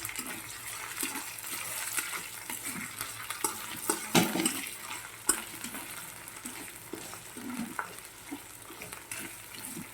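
Chopped raw mango being stirred into an amaranth greens curry in a pan, a steady sizzle with scraping spoon strokes and a few sharper clinks, close by, with no talking.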